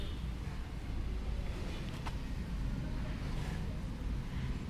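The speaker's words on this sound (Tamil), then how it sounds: "ஸோ இன்ஜின் இப்போது நல்லா ரன் ஆகிட்டுருக்கு." A Cummins 40 kVA diesel generator runs steadily with a dense, even low rumble and a broad mechanical roar. The sound is heard indoors at moderate level, with no break in the drone.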